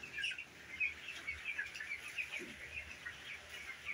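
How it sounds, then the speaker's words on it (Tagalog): Chickens on a small backyard mini farm, with a dense, steady stream of high chirps and peeps from a flock of young birds, fairly close and continuous, with no one talking. "Mga manok."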